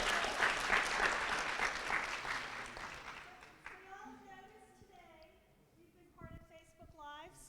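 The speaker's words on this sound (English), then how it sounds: "Can you give her a big round of applause?" An audience at an academy ceremony gives a lively round of applause that is dense for about three seconds and then fades. A voice starts speaking as the clapping dies away.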